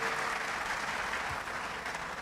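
An audience at a college open day gives a steady, even round of applause with many hands clapping across the whole span, moderately distant.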